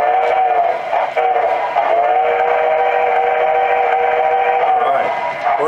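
A model saddle tank locomotive's digital sound module, triggered by a magnet passing a reed switch, sounds a long, steady steam whistle, loud and close, with faint mechanical chuffing beneath.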